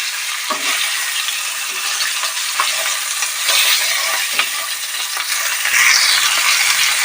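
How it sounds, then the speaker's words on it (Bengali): Loud, dense sizzling of a fish head frying in oil with crackling spatters and occasional scrapes of a spatula, continuous and close. "মাছের মাথাটা ভালো করে ভেজে নিতে হবে"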